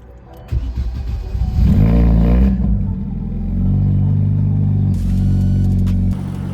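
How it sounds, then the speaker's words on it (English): Chevy Cruze fitted with upgraded ignition coils cranking briefly, catching with a loud roar, then settling into a steady close idle. "let's go ahead and fire up the car"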